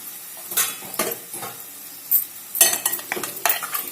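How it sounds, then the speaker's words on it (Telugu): Chicken pieces stirred into fenugreek leaves in an oiled pan, a soft sizzle running under scraping spoon strokes and occasional light clinks of utensil against metal, the stirring coming in irregular bursts. "మనం చికెన్ వేసుకుందాము. ఇప్పుడు మంచి కలపండి."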